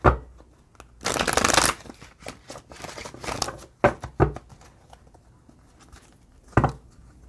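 Tarot cards are shuffled close by in a few rustling, riffling bursts of varying length, separated by quieter gaps and soft handling taps.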